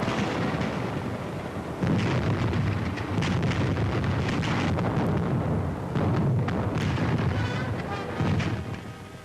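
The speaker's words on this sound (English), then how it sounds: "German guns go into action on a wide front." German artillery guns fire along a wide front in 1940, a relentless rumbling barrage of heavy booms rolling one into the next, loud and distant-sounding with wind-like roar between blasts.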